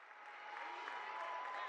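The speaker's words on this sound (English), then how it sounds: "The crowd's really into it." Basketball crowd in a school gym at a boys' game against Fosston, cheering and applauding steadily. The broadband roar swells gently and holds loud for about two seconds, with no clear speech.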